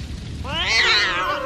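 A cartoon sacred cat lets out one drawn-out, rising and falling meow, loud and close, over a faint background of ambient sound.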